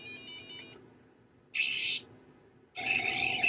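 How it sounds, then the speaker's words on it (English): Beeper-speaker tones from an old PC bird-shooting game: a short warbling chirp, then two loud bright electronic bursts with a pitch sweep, each alone with brief gaps between. "Hopefully the beeper speaker is going to work."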